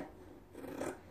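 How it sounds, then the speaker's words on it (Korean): Scissors snip through hanbok jeogori fabric with a soft, brief rasping cut, faint and close, with no voices. "이렇게 그냥 잘라주세요"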